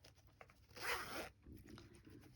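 A hot pink zipper on a hand-stitched fabric pouch is pulled in one smooth, close rasping run lasting about half a second, framed by soft handling rustles in a quiet room.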